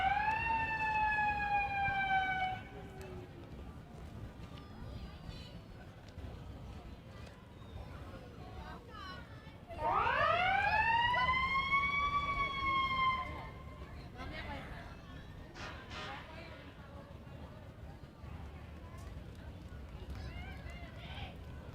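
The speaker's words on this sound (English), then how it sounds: "giving an example of several of their sirens." Emergency vehicle sirens wail in rising and falling sweeps during a parade in Port Huron, one burst at the start and a louder one midway, with crowd noise and chatter underneath.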